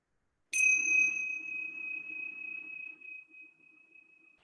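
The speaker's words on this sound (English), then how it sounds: "I will begin the practice just by ringing the bells." Meditation bells struck once to open a stress-reduction practice, a bright ringing tone that sustains and slowly fades over several seconds, alone in a quiet room.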